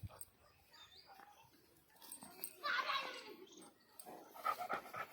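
A dog playing ball outdoors pants in short bursts close by, mixed with intermittent children's voices and calls.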